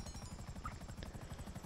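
A helicopter in GTA Online flies close by with a fast rhythmic rotor chop throbbing low and steady, fairly quiet and alone.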